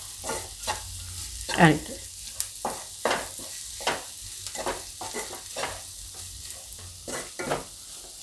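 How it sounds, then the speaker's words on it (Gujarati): Spices with coriander-cumin powder being stirred in a pan for zunka: repeated scraping strokes of a spoon against the pan over a low sizzle, with one louder metallic scrape early on and a brief voice near the end. "આપણે બધો મસાલો મિક્સ કરી લેવાનો."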